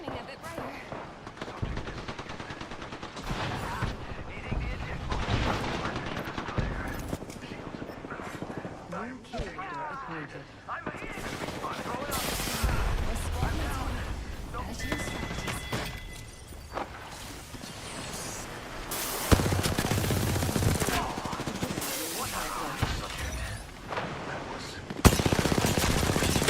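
Pistol shots and other gunfire in a video game, repeated bursts of sharp cracks over a busy mix of game sounds, with a voice talking throughout.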